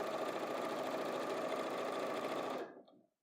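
A domestic sewing machine running continuously while stitching a straight seam, a dense, even mechanical whir at close range that holds steady for a couple of seconds before stopping abruptly.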